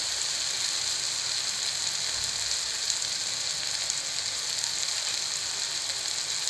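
Jackfruit seeds sauté with turmeric in a hot pan, giving a continuous, even hiss of sizzling oil, soft and close, with no stirring strokes standing out and no talk.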